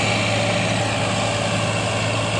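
A Massey Ferguson 9500 tractor pulling a 7-foot Land Force rotavator, its engine droning in a steady, loud, low hum with no break and no voices.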